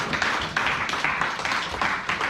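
A church congregation applauding during a French-language seminar service, a steady dense clapping of many hands that swells in uneven waves, fairly close.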